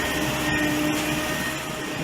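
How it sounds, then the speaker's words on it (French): A windrow turner machine working a compost windrow outdoors, giving off a continuous loud, noisy mechanical roar and whir with a faint steady whine and no variation. "Cette machine, le retourneur d'andin, est utilisée justement pour aérer les bactéries"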